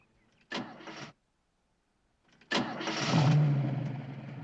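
A 1987-era car engine cranks briefly and stops, then after a pause cranks again and catches, running on at a steady rough idle close by.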